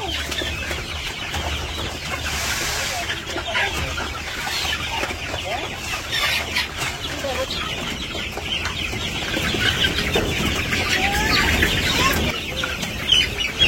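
Chickens clucking and squawking inside a village chicken house, with occasional wing flapping, the birds close and fairly loud while someone speaks among them.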